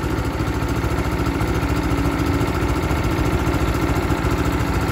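A Power King PK0913DD 2.8-inch direct-drive chipper shredder engine idles steadily while warming up, with a loud, continuous mid-pitched drone and a fast, even putter throughout, no talking.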